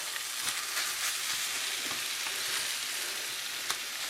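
Omelette eggs sizzle steadily in a frying pan, a dense even crackle with a few faint utensil taps, close and continuous.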